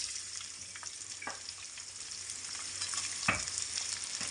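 Onions dropped into hot ghee with browned cumin sizzle steadily, with a couple of sharp crackling bursts and light stirring scrapes over a constant frying hiss, close and moderately loud.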